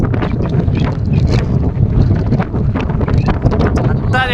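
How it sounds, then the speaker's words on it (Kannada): Heavy wind buffets a handheld phone microphone outdoors at a temple site, a loud, continuous low rumble and roar with gusty surges throughout, nearly drowning everything else. "ಹೆವಿ ಗಾಳಿ ಹೊಡಿತೈತೆ, ನಾಯ್ಸ್ ಎಷ್ಟು ಕೇಳಿಸುತ್ತೋ ಗೊತ್ತಿಲ್ಲ"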